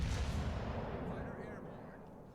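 Naval guns fire armor-piercing shells in World of Warships, a heavy booming blast that rolls off into a long fading rumble, loud and close at the start, with a faint voice under it.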